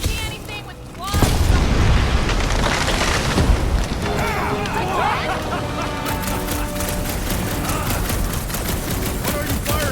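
Gunfire in the Guardians of the Galaxy video game, a dense burst of loud shots and booms cutting in after a second and continuing with scattered blasts amid game effects and voices.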